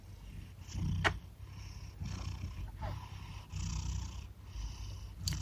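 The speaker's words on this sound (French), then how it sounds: "Il ronronne jamais fort." A domestic cat purrs softly and steadily up close, a low continuous rumble that swells and eases with each breath, with no talking over it.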